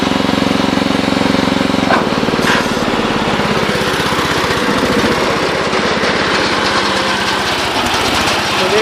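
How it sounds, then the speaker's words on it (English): A Bolen 1050 tractor drives a snowblower through its power takeoff, the small engine droning loudly and steadily close by, its pitch shifting after about two seconds as the blower spins on. "So there's the snowblower doing its thing."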